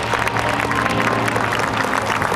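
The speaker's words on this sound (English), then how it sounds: "Stand and a round of applause for the men and women of the Army, Air Force, Coast Guard, Marine Corps, and Navy." An airshow crowd at NAS Oceana applauding military service members: broad, continuous clapping from many people outdoors, steady and moderately loud throughout.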